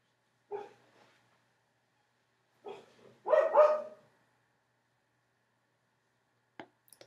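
A dog gives a few short, sharp barks with gaps between them, heard from a back porch at moderate distance in an otherwise quiet room, followed by a faint click.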